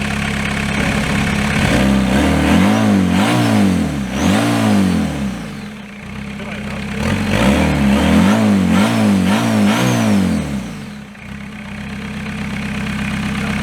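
A Citroen C15D diesel engine, being built for rallying, runs steadily up close, its low rumble rising and falling in two long revving swells before settling back to an idle.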